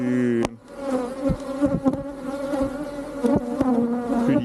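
A honeybee swarm opened up during a routine beehive inspection drones with a loud, dense, continuous buzz close by, with a few louder rising swells and a brief dip near the start.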